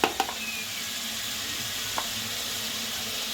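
Chicken frying in a pan gives a steady, close sizzle, with a few sharp clinks and scrapes of stirring near the start and once more partway through.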